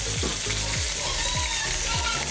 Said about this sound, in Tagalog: Ipiprito na natin.